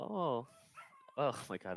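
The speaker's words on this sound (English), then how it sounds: "That's my dog." A dog gives a short yip and a couple of higher whiny barks at home, close by, mixed in with a person's startled talking over a quiet background.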